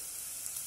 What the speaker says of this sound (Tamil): சின்ன வெங்காயம் சின்ன வெங்காயத்தை முதல்ல வதக்கிக்கலாம்